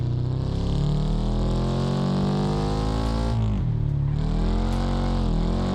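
The base Dovetail car's engine in BeamNG drones loudly and continuously, its pitch dipping briefly midway as revs drop and climb again, with no talk.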